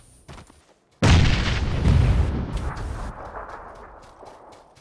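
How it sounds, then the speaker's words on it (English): A grenade explodes nearby in PUBG with a sudden heavy boom and a long rumbling decay; a faint thump comes just before it, and no one speaks. "They're lobbing grenades somewhere close."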